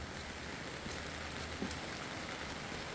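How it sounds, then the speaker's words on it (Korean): Rain falls steadily on a vegetable field being readied for kimchi cabbage, an even outdoor hiss with a faint patter of drops close by. "오랜만에 비가 와갖고 날씨가 선선해니 좋으네요."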